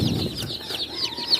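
Newly delivered day-old kampung chicks peep in a dense, high-pitched flurry, close by and continuous over a brief moment.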